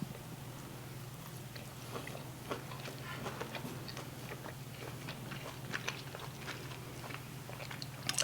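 Someone chews a bite of steak sandwich meat up close, with soft irregular wet crunches and mouth clicks over a low steady hum.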